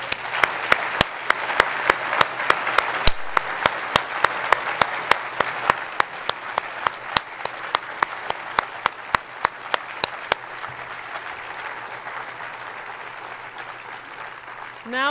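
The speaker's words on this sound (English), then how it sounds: "let's congratulate all of our awardees and give them another round of applause" An audience at a geophysics honors ceremony applauds award recipients in a dense, sustained round of clapping. A few loud, sharp claps stand out near the microphone, and the clapping slowly thins toward the end.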